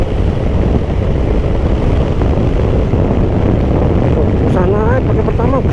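An Aprilia SR GT 200 scooter engine is revved briefly, a loud continuous whine with wind buffeting, and a voice speaks near the end.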